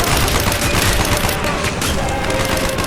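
Dense, loud gunfire rattles nonstop in a Call of Duty Black Ops campaign battle, overlapping rapid automatic bursts forming a continuous barrage close up.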